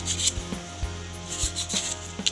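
Coarse cloth sandpaper rubbed hard over a roller part, giving rhythmic scratchy back-and-forth strokes, close and moderately loud, with no talk.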